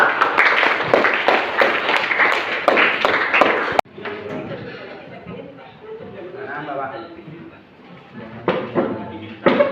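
A classroom group claps in a quick burst of sharp, irregular hand claps lasting a few seconds, then the claps stop and a teacher's voice and background chatter take over, with a few faint taps near the end.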